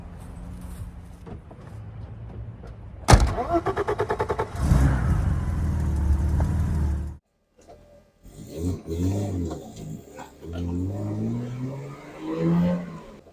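A 1990 BMW E30 325iS two-door starts and idles with a rough, rhythmic rumble, then drives off, the engine note rising and falling through gear changes, close by.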